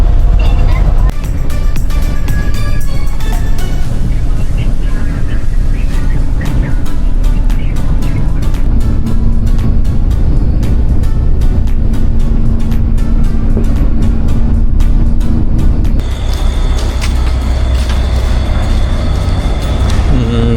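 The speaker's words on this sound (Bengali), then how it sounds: "এখন তো আস্তেই চলতেছে বাস" A bus driving slowly on a road trip from Cambodia to Thailand, heard from inside as a loud, steady engine drone and rumble with rattles and road noise throughout, while people talk faintly.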